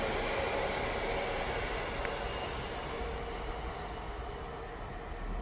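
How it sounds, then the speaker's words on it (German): A Nightjet night train bound for Innsbruck pulls into the platform at Wörgl Hbf. It makes a steady, fairly distant rumble of rolling wheels and carriages that holds at an even level with no voices. "Nightjet 421 to Innsbruck Hauptbahnhof is arriving at Platform 7B to E."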